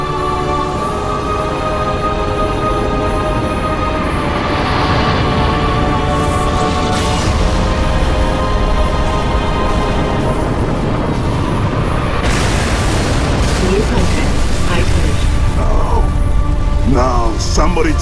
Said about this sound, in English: Frigate 318 Heavy is inbound, and MAC rounds have been authorized.